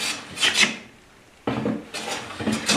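Hand plane taking fine cuts in wood: two short, close rasping swipes with a quiet pause between them, dry and hissy, with no voices.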